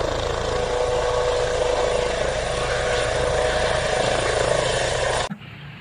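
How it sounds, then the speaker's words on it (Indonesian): A toy helicopter whirs with a loud, steady buzzing drone that runs continuously for about five seconds, then cuts off abruptly, with no talking over it. "di sini juga ada helikopter"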